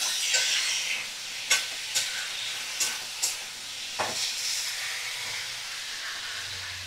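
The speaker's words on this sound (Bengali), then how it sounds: "আবারও আমি ভালো করে সমস্ত মশলা আর সবজি ভালো করে কষিয়ে নেব" Spices and vegetables sautéing in a pan over medium flame for a thin fish curry, a continuous close sizzle broken by several sharp clinks and scrapes of stirring, with no voices.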